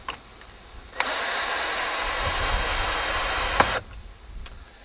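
A power drill drives a screw into treated lumber during high tunnel construction, one continuous loud whirring burst of about three seconds with quiet gaps before and after.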